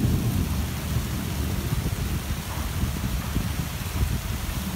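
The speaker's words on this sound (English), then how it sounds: "this is like the second time it's rained since we've been here" Heavy rain pours steadily outside a school building, with low rumbling thunder rolling beneath the dense, constant hiss of the downpour throughout.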